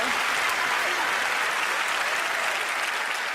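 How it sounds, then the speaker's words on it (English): Audience applause for a magician on a televised magic show, a dense steady wash of many hands clapping at once, full and even from start to finish with no voices over it. "Another round of applause for Gianni."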